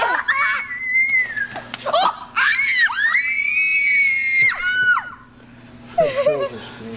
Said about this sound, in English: The girls are screaming.